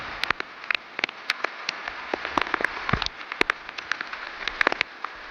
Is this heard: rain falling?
yes